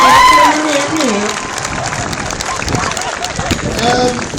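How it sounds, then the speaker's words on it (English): At a Black Lives Matter protest at Worcester Racecourse, the crowd claps and cheers for the speakers, a loud, continuous burst of applause with scattered voices and shouts over it. "a massive round of applause for the other speakers that we've had today"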